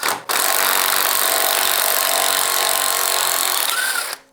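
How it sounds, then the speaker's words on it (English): A power tool whirs loudly and steadily for about four seconds, starting abruptly and winding down at the end, close to the listener with no talk. "I've got power tools, why don't I use them?"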